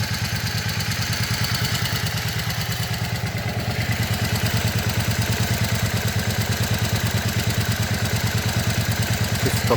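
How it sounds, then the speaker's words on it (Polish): A Yamaha Virago 535 motorcycle engine idling steadily after carburetor cleaning and adjustment, with an even, rapid pulsing beat and light mechanical clatter, close by. "motorek po długiej walce ustawiony. Tak pracuje."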